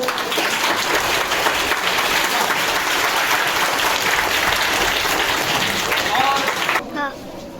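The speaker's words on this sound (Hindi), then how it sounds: "मैं चाहूँगा कि आप कैमरे के सामने आए और चाहेंगे कि हौसला सर के लिए एक जोरदार ताली आप लोग बजाएं बच्चों।" Children at a school birthday celebration clap loudly and continuously for several seconds, a thick, sustained burst that drops off abruptly near the end, leaving a brief, quieter tail with a faint voice.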